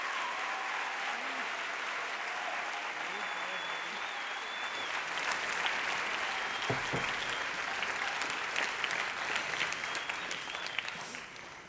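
Sustained audience applause at Bioneers 2016 welcoming the performers Climbing PoeTree: a dense, continuous wash of clapping from a large crowd that swells slightly and runs the whole stretch, with a faint voice near the start.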